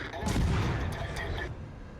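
A loud salvo of naval guns fires in a warship video game, a dense booming blast that rumbles for about a second before fading.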